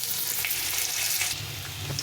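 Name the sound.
potatoes frying in a little oil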